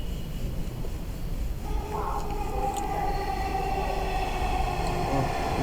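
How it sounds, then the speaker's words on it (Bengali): A metro rail train arriving at a station, a low rumbling roll that builds steadily with a rising whine and a few brief high tones as it comes in. "মেট্রো রেল চলে এসেছে"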